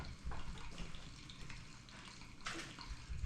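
Tap water runs steadily in a kitchen sink while something is rinsed off, a faint, continuous hiss with a brief brighter splash partway through.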